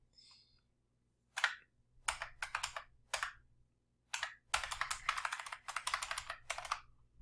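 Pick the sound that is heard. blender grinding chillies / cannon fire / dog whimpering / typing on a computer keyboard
typing on a computer keyboard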